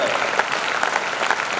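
A school farewell audience claps together in a dense, steady burst of applause, close and even from start to finish.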